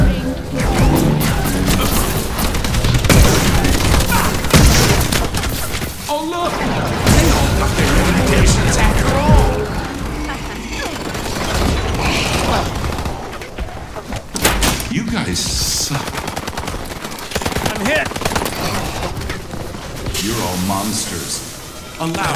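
Automatic turrets fire on their own in Advanced Warfare Exo Zombies, with dense rattling bursts and crashing impacts running loud and nearly nonstop beneath excited talk.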